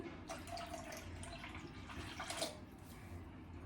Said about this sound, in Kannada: ನಾನು ಇದಕ್ಕೆ ಒಂದು ಗ್ಲಾಸ್ ಅಷ್ಟು ನೀರು ಹಾಕೋತಾ ಇದ್ದೀನಿ